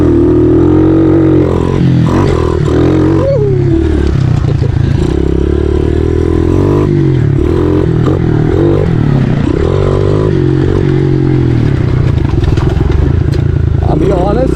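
A small dirt bike, a 2017 Yamaha TTR 110 or a 2007 Kawasaki KLX 143, roars close and loud over a tabletop jump. The engine revs rise and dip as the throttle opens and closes.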